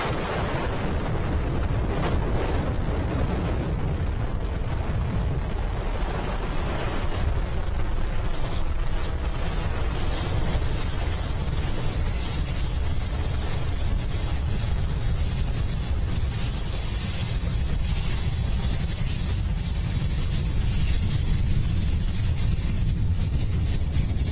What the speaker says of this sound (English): Falcon 9, clear the tower